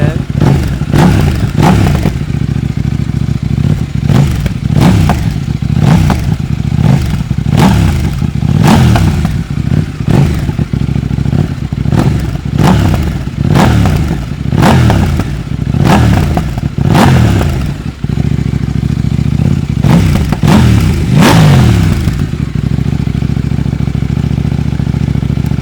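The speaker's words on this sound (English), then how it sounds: "now that we're warmed up a bit, let's get some revs in." Loud, close revving from a 2026 KTM 990 RC R motorcycle with a homemade exhaust delete: repeated sharp throttle blips rise and fall in quick bursts over a rumbling idle, with no talking.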